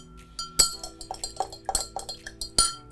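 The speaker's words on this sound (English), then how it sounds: "Let's give it a little stir." Spoon clinking against a glass while stirring a vodka drink with lemon lime soda, a Dirty Shirley cocktail; bright metallic clinks come close and distinct, about four sharp strikes amid lighter rattling taps.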